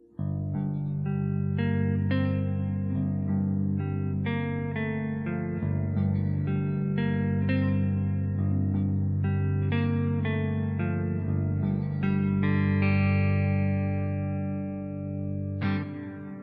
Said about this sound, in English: This is a really awesome clean amp.